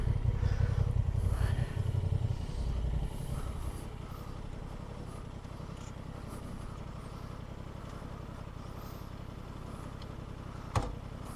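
A Honda Transalp motorcycle engine rides through sand in second gear, a steady low drone that is louder at first and then settles to an even hum, with a brief sharp knock near the end.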